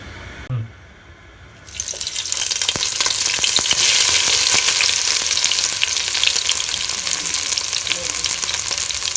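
Onions hit hot mustard oil after a brief quiet moment, bursting into a loud, dense, steady sizzle with sharp crackles throughout, close and continuous without speech.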